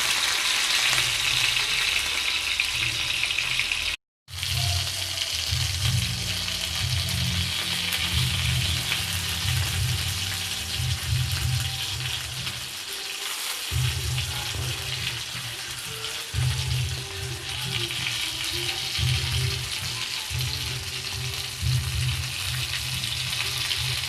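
Sankara fish frying in a pan, a steady loud sizzle of hot oil that carries on almost without a break, cut off by one brief gap and some faint stirring sounds.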